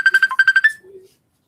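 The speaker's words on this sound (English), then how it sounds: "Why is Quadasia calling me?" A phone rings with an incoming call, a quick burst of bright, rhythmic electronic beeps repeating about eight times over under a second, then a short softer tone and silence.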